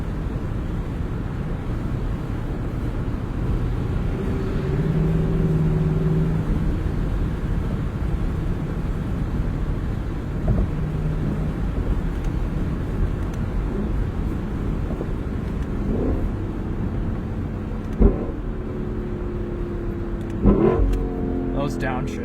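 A sports car engine rumbles steadily and close, then rises through accelerations with sharp downshift blips near the end, with people's voices in the cabin.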